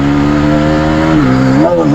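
A Bajaj Pulsar NS400Z motorcycle downshifting with rev matching: a loud, close, steady engine drone broken by two quick throttle blips as the gear changes.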